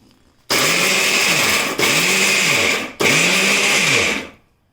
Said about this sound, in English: So let us grind it.